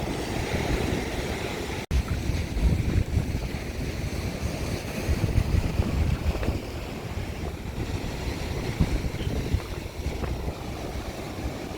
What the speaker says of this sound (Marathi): लाटा बघ कसली उडतडे.